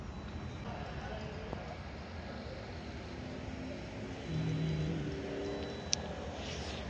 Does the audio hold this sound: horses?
yes